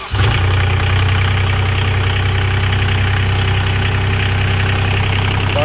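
A new Wacker Neuson RD14 roller's engine cranks and fires within a split second, then settles into a loud, steady, close idle with a low throbbing drone and a knocking chatter, no voices.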